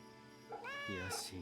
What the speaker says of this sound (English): There's an animal. Kitty!